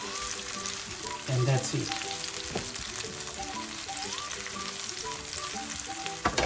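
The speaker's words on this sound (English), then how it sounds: "We're just going to sweat them for a while" Vegetables sweat in a frying pan with a continuous close sizzle and occasional utensil knocks, while a tonal hum runs underneath and a voice speaks briefly near the end.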